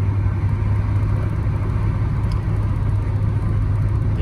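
A 1985 Oldsmobile 98 Regency cruises on the highway at speed, giving a steady low engine drone and road rumble that holds constant throughout, with no talk.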